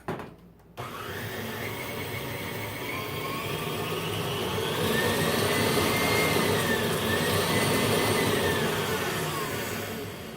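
An electric mixer beats white bean liquid in a bowl with a loud, steady high whine that starts abruptly and holds for several seconds, its pitch shifting slightly as it runs.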